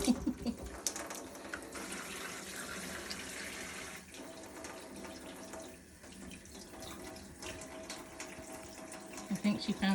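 Tap water running into a sink while a dirty kitten is washed, a steady close splashing flow with fluctuating intensity, and people talking faintly at times over it.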